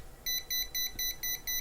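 A cheap fan controller's stall alarm sounds when a fan is stopped: six short, evenly spaced electronic beeps in a steady on-off rhythm, close and clear over a quiet background.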